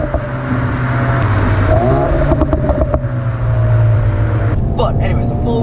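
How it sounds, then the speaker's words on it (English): A Renault Mégane RS idles with a steady low exhaust drone and a faint rev blip, close and continuous, while a person talks over it. "switch that off so that it's purely exhaust sound"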